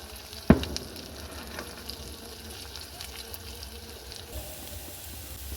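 Banana flower pakoras coated in biscuit crumbs fry in hot oil with a steady close sizzle, opening with a single sharp knock as they go in, then a continuous bubbling hiss.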